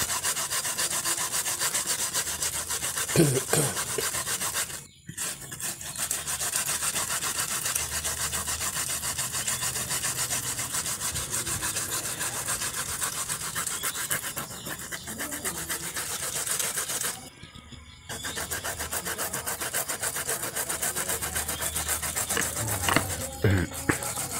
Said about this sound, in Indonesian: Diparut halus seperti ini.